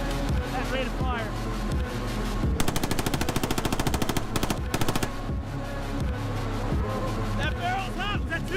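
A video game machine gun fires a rapid, dense burst lasting a couple of seconds, with shorter bursts after it. Loud music plays under the gunfire.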